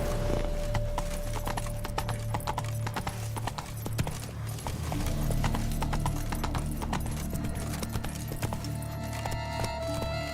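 Roach the horse from The Witcher 3 gallops in steady rhythmic hoofbeats, clear and continuous over a low game music drone.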